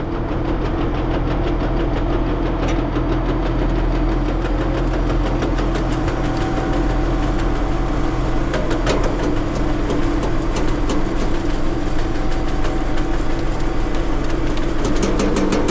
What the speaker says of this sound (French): Allez, on démarre la souleveuse.